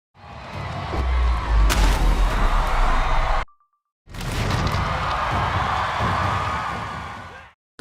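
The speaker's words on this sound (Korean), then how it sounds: "환호성과 박수가 터져나왔는데요" A loud crowd erupts in cheers and applause at a taekwondo demonstration, cuts out briefly, then resumes with sustained clapping and shouting.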